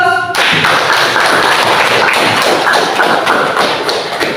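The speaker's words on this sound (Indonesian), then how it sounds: "kasih aplaus" Applause from a class audience for a group that has just finished a school presentation, dense steady clapping that starts abruptly and continues loud and close throughout.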